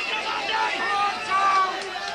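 A rugby league crowd in the far stand rises and cheers for a near break by a running player, a sustained roar of voices. A commentator talks over the noise.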